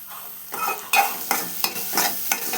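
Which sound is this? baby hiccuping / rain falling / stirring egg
stirring egg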